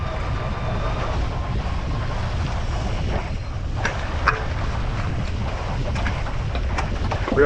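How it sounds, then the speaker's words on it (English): Strong wind buffets the microphone around a fishing boat offshore in rough seas, a steady loud roar of wind and water with a few faint knocks and creaks, no voices. "The wind picked up on us, the seas picked up on us"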